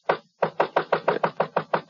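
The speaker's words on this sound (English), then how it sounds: "I heard somebody pounding at the door" Heavy pounding knocks on a wooden door in a radio drama, a single blow followed by a steady run of about ten loud, evenly spaced thumps, close and alone with no voices.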